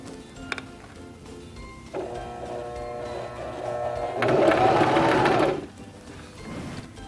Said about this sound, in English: This will sew the top of your buttonhole, the bar tack.